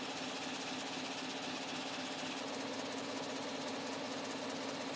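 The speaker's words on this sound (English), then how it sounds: "even when the MÜJET MBJL6 is running at high speeds" A Jacob Müller MÜJET MBJL6 air jet label weaving machine runs at high speed, giving a constant dense mechanical clatter and hiss with a steady hum underneath, unchanging throughout and with no voices.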